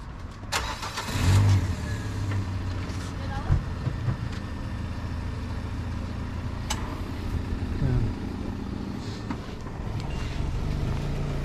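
Cars circling a traffic roundabout in Ruski Krstur, with steady mid-level engine and tyre noise, a louder vehicle passing early on, and occasional voices talking over the traffic.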